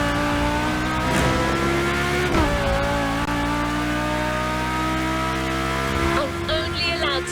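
A car drifts in The Crew Motorfest racing game, its engine droning loud and steady with pitch shifts as revs change, and tyre noise along with it, under a music bed.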